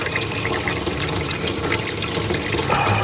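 Water rushing steadily into a toilet cistern whose filler valve fails to shut off, a continuous hissing fill that stays loud and unbroken throughout.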